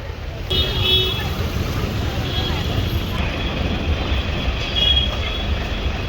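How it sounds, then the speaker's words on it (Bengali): A train pulls out of a station with a steady, heavy rumble and intermittent high metallic squeals, while people talk nearby. "ট্রেনটা জাস্ট বেরিয়ে গেল।"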